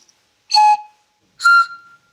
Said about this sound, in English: when you blow down it in a special way, it makes a lovely whistling noise